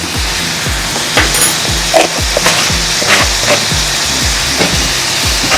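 Spices and salt with turmeric being sautéed in a pan for a Kerala-style egg fry, a steady sizzle broken by regular scraping strokes of a spatula, close and loud with no talking.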